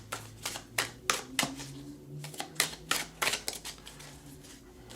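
Art Nouveau tarot cards are shuffled by hand in a quick series of sharp riffling clicks and slaps, close and fairly loud, with irregular pauses between bursts and no talking.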